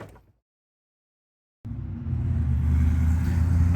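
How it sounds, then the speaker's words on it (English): A brief engine sound fades out, followed by silence, then a car's low rumble swells in and holds steady as it drives past nearby outdoors during work on a 2018 Ford F-450. "sorry about the noise, we got cars driving by."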